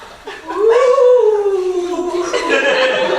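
A person imitates a dog howling, a rising, wavering vocal howl that swells after a short lead-in and holds loud and close for about three seconds.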